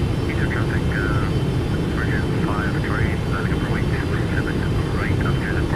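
Boeing 777-200 jet in the X-Plane 12 flight simulator on final approach, a steady loud engine roar filling the whole stretch, with chirpy bird-like tones layered faintly above it.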